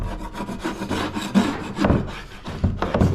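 Scraping and rubbing as softened old finish is stripped off a set of wooden drawers, a steady rasping texture with repeated strokes, close and moderately loud with no talk.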